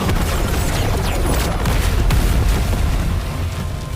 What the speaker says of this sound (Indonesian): hingga terjadi ledakan besar.